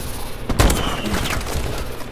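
Shotgun fire in a first-person shooter video game, one sharp close blast followed by a few lighter echoing shots and rattling action, short and punchy.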